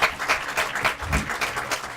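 An audience claps in a dense, continuous burst for the 2018 Guymon softball seniors at a softball game, the rapid overlapping claps filling the moment without any talk.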